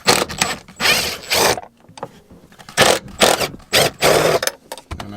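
An impact wrench removing Torx bolts from Recaro car seats in a Ford Mondeo ST, loud close-up bursts of rattling hammering separated by short pauses, several runs in a row.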